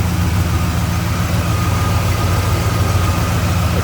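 A 1970 Chevrolet Chevelle's small-block Chevy V8 with a four-barrel carburetor idles steadily at close range, a loud, even low rumble with a constant mechanical hum and no voices.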